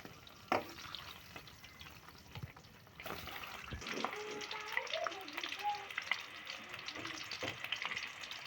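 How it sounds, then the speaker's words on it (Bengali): Eggs fry in hot oil in a wok with a quiet, crackling sizzle that grows busier partway through, broken by small clinks and spatters, heard close but faint. "তেল গরম হলে এতে ডিমগুলো ভেজে তুলে নেব।"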